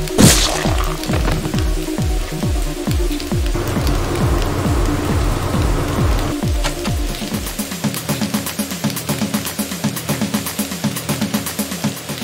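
Heavy rain pours with a constant loud hiss, overlaid by a run of repeated rhythmic thumps and swooping tones that later give way to sharper, scattered patters.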